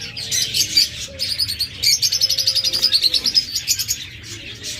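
Pet lovebirds and cockatiels kept for sale chirp up close in bursts of rapid, high, repeated tweets that overlap into a busy, lively chatter, with no speech.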